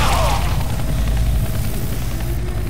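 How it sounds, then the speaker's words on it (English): A helicopter's low rotor thrum drones steadily throughout, with rumbling effects from the video game Left 4 Dead 2 layered over it. "I hear the helicopter and a witch."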